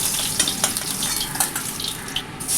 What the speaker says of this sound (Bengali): ঠিক একইভাবে আমি উল্টো দিকটাও ভেজে নিচ্ছি